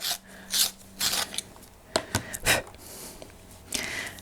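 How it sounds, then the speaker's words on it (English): A purple iris colored pencil is twisted in a sharpener, giving a series of short scraping, rasping grinds in irregular bursts, close and quiet with no talk. "Again, I'm just going to give this a wee sharpen."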